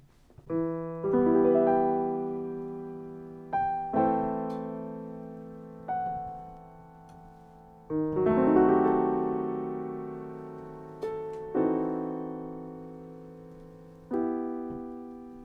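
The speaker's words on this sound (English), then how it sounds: "opening two measures of the piece, of the toccata section, which sound like this" Sustained keyboard chords from the opening two measures of a Bach toccata ring out one after another, each struck and left to decay, with some clashing, dissonant harmonies over a low held bass.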